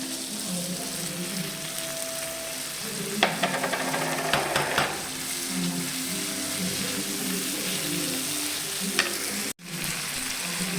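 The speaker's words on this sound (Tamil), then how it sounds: "நல்லா வதக்கி விடுங்க." Tomato and ginger garlic paste sautéing in a pan for paneer butter masala, with a steady close sizzle and occasional stirring scrapes and clinks, plus a brief sharp dropout near the end.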